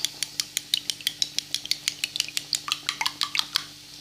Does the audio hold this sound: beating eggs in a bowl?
yes